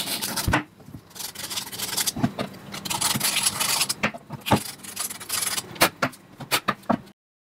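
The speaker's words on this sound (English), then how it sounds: "I use a scouring pad supplied with the KKMoon to clean the welding points" A scouring pad rubs and scrubs at the welding points before spot welding pure nickel strip, giving close, rasping strokes in an uneven rhythm that stop abruptly at the end.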